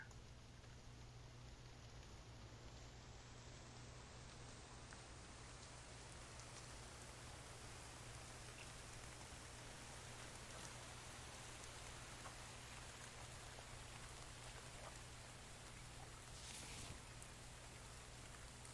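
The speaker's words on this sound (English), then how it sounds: "And here comes the rain." Steady rain falling and pattering on surfaces, a constant soft hiss with no talking, continuing throughout.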